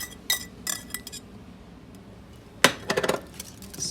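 A utensil stirs warm pudding into eggs in a bowl, sounding as a few scattered clinks and scrapes, quiet gaps, then a quick burst of close clatter against the bowl near the end.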